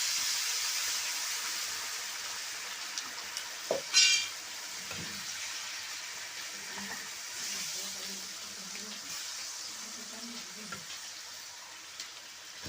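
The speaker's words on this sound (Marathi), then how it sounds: "आता ही चांगली उकळून द्यायची आपल्याला मस्तपैकी चांगली पाणी आटवून द्यायचं आहे" A curry of dried fish (sukat) and onion simmers in a pot on a wood-fired clay stove, giving a continuous steamy hiss and faint bubbling, with one brief clatter partway through.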